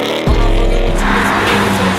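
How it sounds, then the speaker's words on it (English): A Ford Mustang GT engine starts or revs abruptly, then holds a loud, close, deep rumbling idle with steady harmonic tones and a slight revving surge midway, no voices. "we have never taken the Mustang out for a POV drive"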